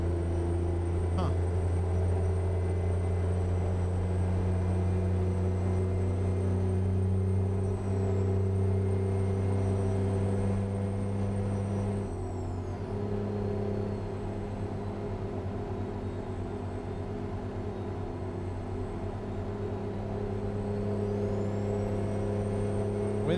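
Truck engine running steadily inside the cab on a night convoy, a deep constant drone with a brief rise in revs partway through, heard close and continuous.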